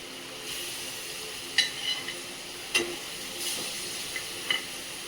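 Spiced masala curry simmering in a pan with fried fish and green chillies, a faint steady sizzle broken by a few sharp utensil scrapes and clicks.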